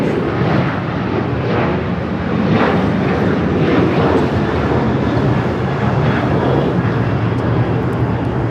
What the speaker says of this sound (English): This is American Airlines 793 taking off to Chicago on the 737-800.